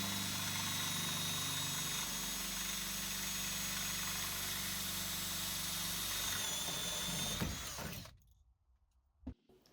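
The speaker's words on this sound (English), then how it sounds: "The drill is going forward, not backwards." A power drill spins a reasonably sharp, not-new bit forward to drill out a rivet, a loud steady whirring grind running continuously for several seconds before cutting off abruptly, followed by silence and a brief clunk.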